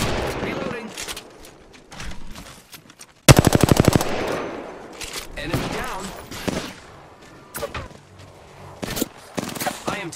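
Rapid automatic gunfire bursts out in an Apex Legends firefight, one long loud machine-gun stream followed by scattered shots and game effects, with voices talking throughout.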